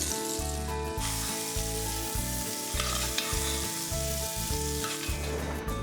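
Steak searing and caramelising in a pan on a Hotpoint hob, a dense, steady sizzle heard up close over a low, rhythmic pulsing hum from the cooktop.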